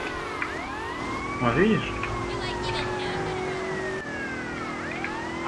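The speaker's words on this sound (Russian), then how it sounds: "Потому что сирену нужно переключать, чтобы они расступали." Police car siren wailing in GTA Vice City, its rising and falling tone sweeping continuously over traffic and engine noise, with a brief spoken voice in the middle.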